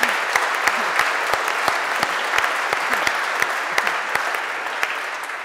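A dinner audience at a chamber of commerce event in Sheffield applauds steadily and warmly, a dense sustained clapping from a large crowd with sharper individual claps popping out, fading slightly at the end.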